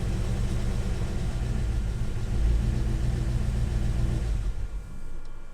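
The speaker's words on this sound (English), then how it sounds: "It does run as long as I keep the throttle open a little bit." A rebuilt LS V8 engine that will not idle runs with its throttle held slightly open, making a steady, loud, close mechanical rumble that fades a little near the end.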